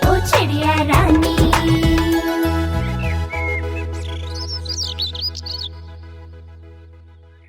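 Bird chirps and tweets over the music of a Hindi children's rhyme about a sparrow. The bird calls sit high above a steady sung melody and fade out toward the end.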